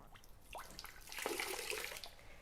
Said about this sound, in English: I'm wetting my microfiber cloth in some water